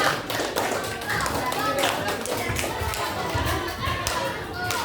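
Classroom of junior high students clapping for a group during a maths lesson, a lively patter of uneven hand claps and taps mixed with children's chatter and a teacher's voice.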